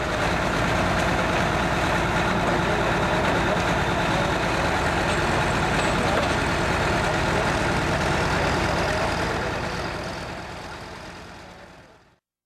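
A pulling tractor roars at full throttle on a tractor pull track at the 2003 American Tractor Pullers Association Midwest Summer Nationals, a loud, steady, unbroken engine drone that fades away at the end.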